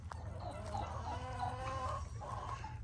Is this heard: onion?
no